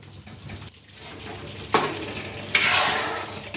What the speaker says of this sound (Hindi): इस स्टेज पे आपको लगातार ही चलाते हुए रहना है, हलवा को छोड़ना नहीं है